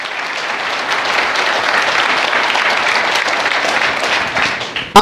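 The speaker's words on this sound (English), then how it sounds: "So once again, big round of applause" A big round of applause fills a Lenovo Transform corporate event hall in New York, a broad, sustained crowd clapping that stays loud throughout, with a brief sharp noise right at the end.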